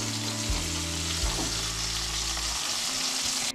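Eggplant pieces fry in oil with a constant crackling sizzle, fairly close but moderate in level, over a low electrical hum that changes pitch partway through, with no one speaking.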